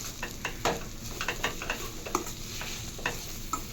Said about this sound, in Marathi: तर अशा पद्धतीने छान मिक्स करून घेते